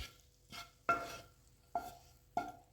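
Chicken and garlic frying together in a pan, heard as faint sizzling broken by several sharp scrapes and clinks of a utensil stirring against the pan.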